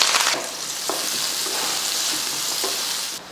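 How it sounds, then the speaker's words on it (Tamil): Onion and curry leaves frying in hot sesame oil give a loud, close, steady sizzle, with a few soft stirring knocks under the crackle. "எண்ணெய் காஞ்சதுமே ஒரு பெரிய வெங்காயமும் அப்புறமா கொஞ்சம் கருவேப்பிலையும் சேர்த்துடலாம்"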